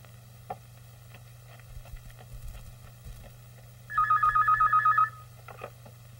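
A telephone rings once with a rapid electronic trill lasting about a second, over a steady low hum in a quiet room.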